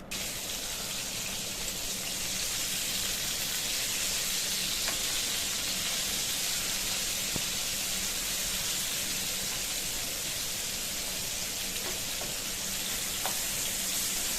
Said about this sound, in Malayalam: ഈ മീൻ പൊരിക്കുന്ന ടൈമിൽ ഈ ഒരു സ്മെല്ല് മാത്രമല്ല ഈ ഒരു സൗണ്ടില്ലേ എനിക്ക് ഭയങ്കര ഇഷ്ടം കേട്ടോ